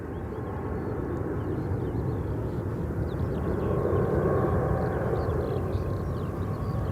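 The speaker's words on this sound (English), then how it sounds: "Emirates A380 coming in." Emirates Airbus A380 landing at London Gatwick, a steady, distant jet roar that swells gently in the middle and stays broad and even throughout, with no voices.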